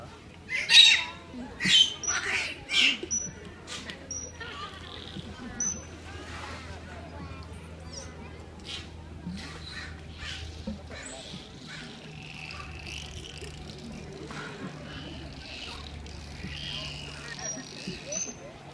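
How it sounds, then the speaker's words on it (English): Dolphins at an aquarium show whistling and squawking in a series of high chirps and squeals, loudest at the start and then softer and scattered, over a steady low hum of water and background crowd murmur. "that's a pretty incredible dolphin symphony"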